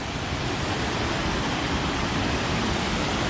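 Rocky Brook Falls, a roaring waterfall along Washington's Highway 101, pours as a dense, steady rush of white noise, loud and unchanging throughout.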